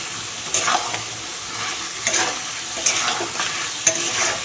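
Chicken coated in spices sizzles and crackles steadily in a pan while being stir-fried, with a few louder scraping stirs spaced roughly a second apart over a constant frying hiss.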